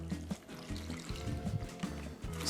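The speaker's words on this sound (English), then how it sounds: "Then we're going to take our citrus juices and pour it right into the bag." Citrus juices pour and trickle into a Ziploc bag holding a pork shoulder, a steady liquid stream with soft plastic crinkles and splashes, close up and fairly quiet.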